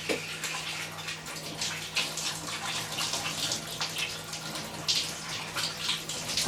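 Tap water runs steadily while hands are washed at a kitchen sink during fish-frying prep, a continuous close hiss and splash with small shifts in flow and no talk.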